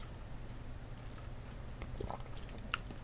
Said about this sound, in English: Excuse me for the loud swallowing.